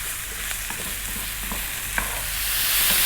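Sliced mushrooms frying in a pan for a pasta dish, with a steady hiss of sizzling as they release moisture, and soft scraping and clicking as a utensil stirs them, up close and without talk.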